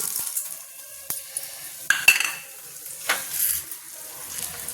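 Cumin seeds and chana dal fry in a pan for beetroot chutney, a faint sizzle broken by a few sharp clinks and scrapes of a utensil stirring against the metal.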